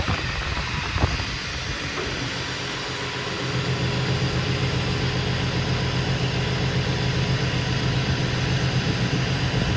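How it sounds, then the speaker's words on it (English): A tow truck engine idles steadily as it backs up, a continuous low mechanical hum that grows slightly louder and fuller partway through, with faint background noise. "Go ahead, Jackson, back up"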